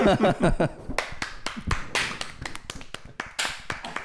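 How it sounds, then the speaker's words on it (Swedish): A small round of applause from a few people at the end of a podcast episode, with quick scattered claps and taps, close and dry, after a brief moment of laughter and talk. "Ska vi, ska vi avsluta det här avsnittet med en liten applåd då?"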